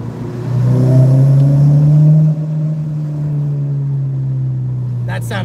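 Car engine revs hard through an underpass, a deep droning roar with rising harmonics that swells, eases, then holds a steady rumble echoing off the walls, with no talk over it.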